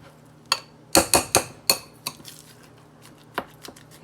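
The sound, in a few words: stirring meatloaf mixture with a spoon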